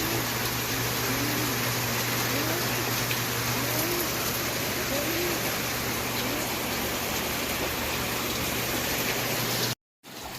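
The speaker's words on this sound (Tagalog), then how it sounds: "bumuhos na naman yung ulan" Heavy rain pours down steadily as a dense, even hiss with a low hum beneath it, then cuts off abruptly near the end.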